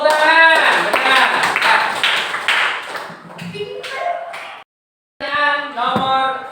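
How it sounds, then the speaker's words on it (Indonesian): Students in a seventh-grade informatics classroom clap their hands in quick bursts, mixed with their voices chanting together, before a short silence and a final round of clapping and voices. "Tepuk tangan."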